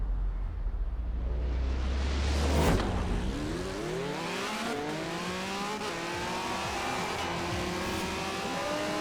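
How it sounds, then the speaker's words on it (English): Can-Am Maverick engine in Forza Horizon 4 racing, revving hard and climbing steadily in pitch through the gears, loud and close with a rising whine and no talking. "this thing just accelerating like a rocket once you get up into second gear"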